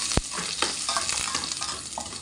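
Fresh onions sauté in oil in a pan as a close, continuous sizzle, broken by a sharp clack near the start and soft scraping stir strokes. Nobody speaks.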